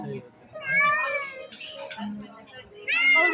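Domestic cat meowing in an animal sound quiz game, several drawn-out meows at moderate loudness, with people talking and reacting over and between the calls.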